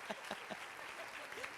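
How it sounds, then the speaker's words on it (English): An audience claps at a Rose Queen coronation ceremony, a steady, fairly faint patter of applause with a few louder individual claps standing out. "Give her a round of applause."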